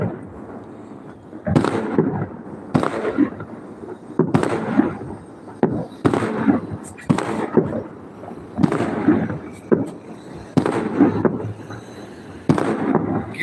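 Fireworks bursting during a New Year countdown: a rapid series of loud, booming explosions, some crackling, coming in quick irregular clusters throughout with no talk.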